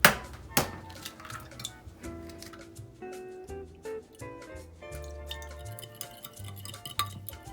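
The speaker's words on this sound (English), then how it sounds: "Now I work on my egg dredge." Egg dredge for fluffernutter French toast being prepared in a dish, with close clinks and taps of a utensil against the dish, liquid drips and splashes, and a sharp knock near the start, no voices.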